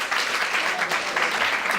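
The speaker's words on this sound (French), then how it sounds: "Sous vos applaudissements, s'il vous plaît." Audience applause at a quiz game show, continuous dense clapping at a steady moderate level throughout, with no pauses.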